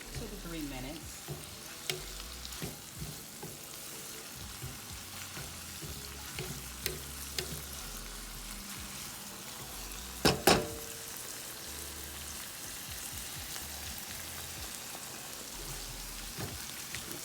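Shrimp fry in a pan for Southern-style shrimp and grits, giving a steady, close hiss of hot oil. Soft stirring scrapes run through it, and a sharp metallic clatter comes about midway as the pan is tossed.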